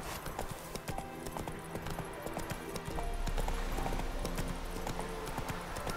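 Horse hooves clip-clopping at a steady walking rhythm in The Witcher 3, the clatter continuous and moderately loud, picking up a little in the second half, with no voices over it.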